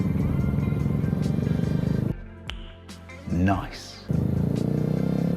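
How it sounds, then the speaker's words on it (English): A Ferrari supercar drives past on a street, its engine rising to a brief swell and then fading. A steady idling motorcycle engine rumbles close by before and after, and a voice speaks briefly. "Wow, it's a Ferrari."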